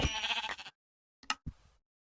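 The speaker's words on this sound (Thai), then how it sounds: "น้องแกะ" A Minecraft sheep gives one clear, close bleat, then a short pause and two brief clicks.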